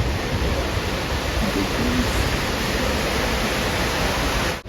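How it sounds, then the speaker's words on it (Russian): An indoor fountain in a Dubai airport terminal splashes steadily, a dense, even rush of falling water that fills the whole clip at close range, with no voices over it. "спускались и спустились вот к этому водопаду. Блин, к фонтану скорее. Обалденно смотрится."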